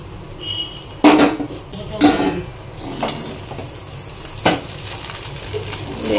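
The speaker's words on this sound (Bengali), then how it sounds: "পেঁয়াজটা দিয়ে দিচ্ছি" Onions sizzle in a hot pan for egg chow mein while a utensil scrapes and clanks against the metal in several distinct strokes, close and clear over a steady frying hiss.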